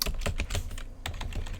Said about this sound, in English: I'm going to go ahead and type in CLS to clear the screen